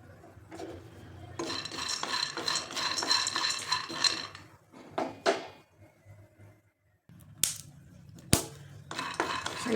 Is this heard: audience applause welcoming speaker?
no